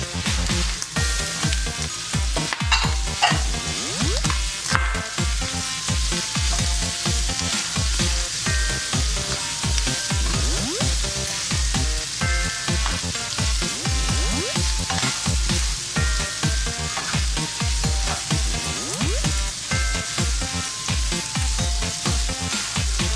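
Hotdog slices and onions frying in a pan for Filipino-style sweet spaghetti, a loud steady sizzle with rhythmic scraping and stirring strokes throughout, close and continuous.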